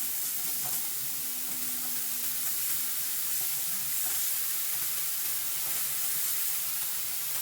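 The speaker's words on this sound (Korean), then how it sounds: "소량 가지고 와서 코팅하시고 고기 볶아줍니다" Beef stir-fries in a thin coat of oil in a pan for japchae, a steady bright hiss and sizzle throughout with faint scrapes of stirring, no voices.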